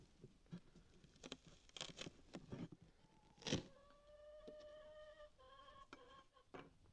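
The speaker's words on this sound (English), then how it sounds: "That's a chicken." A chicken clucks in a beekeeping yard, a few faint drawn-out calls in the second half amid rustling, tapping and handling noises close by.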